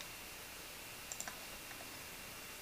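A few faint, quick computer mouse clicks, two or three in fast succession then a lone softer one, over a steady background hiss.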